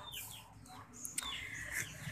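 Soft chicken clucking in a farmyard, a few faint calls and short bursts scattered over a low steady background, with no talking.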